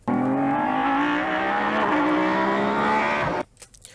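A race car engine holds a loud, sustained, layered throttle note close by for over three seconds, then cuts off sharply, leaving faint scattered noise.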